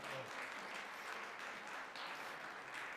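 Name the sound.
congregation applauding at infant baptism in church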